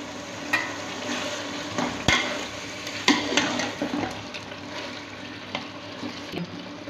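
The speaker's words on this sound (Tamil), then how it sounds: "தக்காளி நல்லா வதக்கணும்." Tomatoes sautéed in a pan for Ambur-style country chicken biryani, with mint and coriander already in: a steady close sizzle and wet stirring, broken by sharp spoon scrapes and knocks against the pan. No talking.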